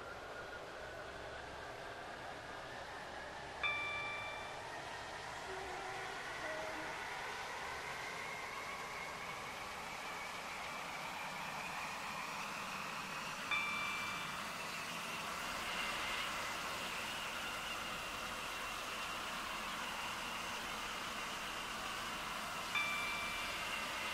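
A Class 350 electric train running in Roblox Stepford County Railway, a steady low rumble and rising whine of traction motors as it travels, with a few short chime-like tones at intervals over the continuous running noise.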